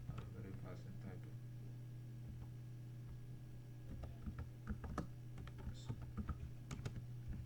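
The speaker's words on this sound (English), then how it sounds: "let me just type this thing fast." Rapid typing patters on a computer keyboard, a dense run of light clicks close by over a steady low hum, growing busier and a little louder toward the end.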